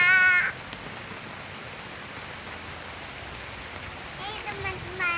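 Rain falls as an even, steady hiss throughout, with bird caws cutting in briefly at the start and again near the end.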